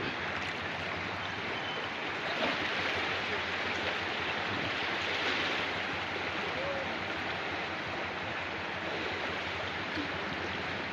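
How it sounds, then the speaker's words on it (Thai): Strong flash flood water rushing through Thap Salao reservoir near a suspension bridge, a steady, loud broadband roar that holds without a break throughout. "ครับวันนี้น้ำป่ามาอีกรอบครับ อย่างแรงเลย แรงกว่าทุกครั้งในรอบปี ครับ"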